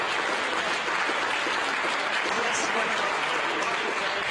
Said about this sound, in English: amidst applause here in the Mission Control Center